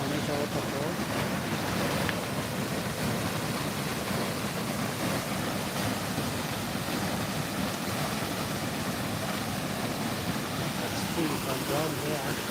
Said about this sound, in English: This is an amateur waterfall.